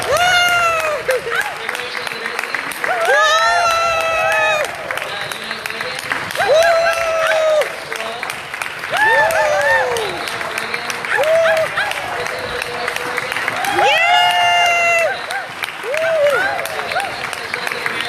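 A crowd cheering and clapping at a criminal justice event in Oregon, with sustained applause throughout and loud, rising whoops and yells recurring over it, close and energetic.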